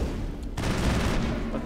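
Anti-thorian grenades go off in the Mass Effect video game, a dense burst of explosive, gunfire-like crackle that erupts after a brief lull and rumbles on loudly to the end, with no voices.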